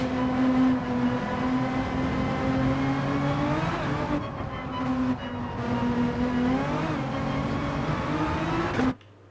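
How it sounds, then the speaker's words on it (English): A race car engine in the Gran Turismo 7 video game screams loud and close at high revs, holding a steady buzzing tone with brief dips and climbs before cutting off abruptly, with no voices. "He is already hitting the rev limiter way before that overhead arch."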